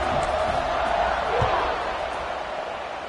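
Stadium crowd at a Navy versus Rice college football game, a broad, steady roar that slowly fades, with a commentator talking over it.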